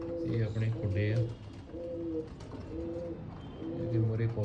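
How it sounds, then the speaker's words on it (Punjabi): Pigeons coo in repeated low, throaty bursts at their home loft, several calls overlapping close by, with a voice talking between and under them. "ਅੱਜ ਤੁਹਾਨੂੰ ਸ਼ੌਂਕ ਕਰਾਉਂਦੇ ਆ ਆਪਣੇ ਕਬੂਤਰਾਂ ਦਾ"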